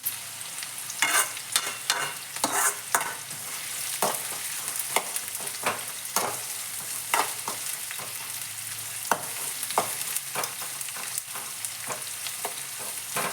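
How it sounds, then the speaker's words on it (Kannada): Onions frying in a pan on a gas stove over fairly high flame, a continuous sizzle broken by frequent scraping stirs, moderately close. "ಉಳ್ಳಾಗಡ್ಡೆ ಹಾಕಿ ನೋಡ್ರಿ. ಸ್ವಲ್ಪ ಗ್ಯಾಸು ಜೋರು ಇರ್ತೀನಿ."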